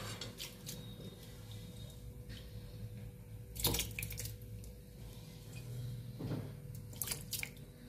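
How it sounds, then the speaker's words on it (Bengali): Pulao rice is rinsed in water: faint drips, small splashes and wet squishing sounds come intermittently over a quiet background, with a couple of slightly louder sloshes. "পোলাওয়ের চালটা ধুয়ে নিচ্ছি"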